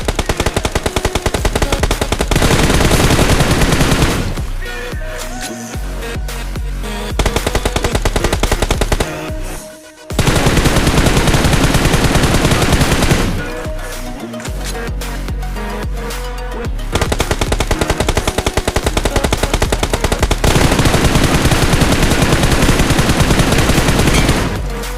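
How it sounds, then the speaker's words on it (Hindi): Heavy gunfire in a battle royale video game comes in long loud automatic bursts, each lasting several seconds and separated by short quieter lulls. "सामने की तरफ से बहुत तेज़ फायर चल रही थी"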